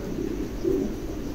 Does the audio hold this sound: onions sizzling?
no